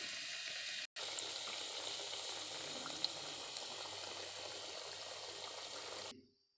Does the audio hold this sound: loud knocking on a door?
no